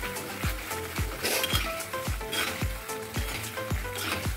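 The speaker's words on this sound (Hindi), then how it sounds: "धनिया पाउडर, टी स्पून हल्दी, थोड़ी सी कटी लाल मिर्च, इसको अच्छे से फ्राई करेंगे।" Masala of coriander powder, turmeric and chopped red chilli frying in a pan for a mutton kofta curry, a steady sizzle broken by regular spoon scrapes against the pan about twice a second.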